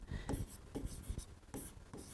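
Pen or marker writing a carbon compound name on a board during a chemistry lesson, with short scratchy strokes in quick bursts and brief gaps, close and fairly soft.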